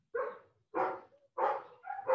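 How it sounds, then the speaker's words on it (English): A dog barks three times in a steady rhythm, each bark loud and fairly close, with a short whimpering tail after the second and a final bark cut off at the end. "That dog agrees with me as well."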